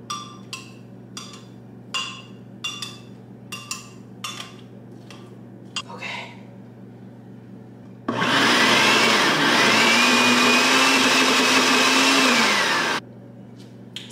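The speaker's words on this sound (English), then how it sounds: "It wasn't blending great" A kitchen blender runs at home, first preceded by a series of sharp knocks and clatters, then a loud, steady whirring motor for about five seconds before stopping abruptly.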